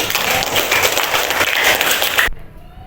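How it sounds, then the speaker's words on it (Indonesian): Elementary school class applauds together in a lively burst of many small hands clapping, fairly loud and close, then cutting off abruptly near the end into quiet room tone. "tepuk tangan dulu untuk semua"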